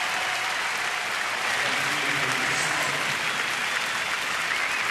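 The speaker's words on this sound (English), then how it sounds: "A lot of folks will stand up and applaud Jordan Zimmerman." Ballpark fans at a Miami at Washington game standing to applaud pitcher Jordan Zimmermann, a continuous roar of massed clapping that swells slightly midway and holds steady, with a faint murmur of voices beneath.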